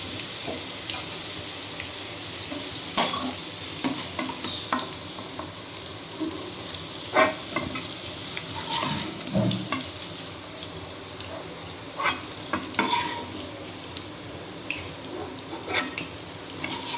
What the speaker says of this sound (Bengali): এইভাবে আলুটা আমি লাল লাল করে ভেজে নেব।